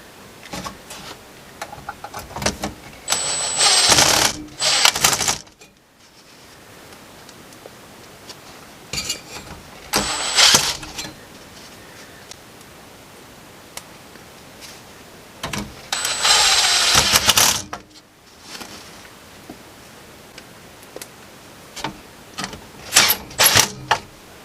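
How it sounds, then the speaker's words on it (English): Screws are fastened back into the case of a Sony TA-F242 amplifier under repair, heard as bursts of sharp metallic rattling and whirring clicks separated by quieter pauses, close and without speech. "So just a matter of doing up all the screws again."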